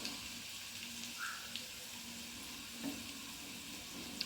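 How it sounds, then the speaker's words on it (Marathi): Curry leaves and turmeric frying in a pan, a soft steady sizzle with faint clinks and stirring, quiet and close with no voices. "कढीपत्ता ते छान भाजलं की यामध्ये हळद"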